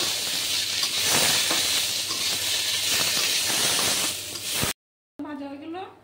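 Rice grains frying in a pan over a lowered gas flame, a steady loud sizzling hiss with faint stirring scrapes, cutting off abruptly before a brief voice.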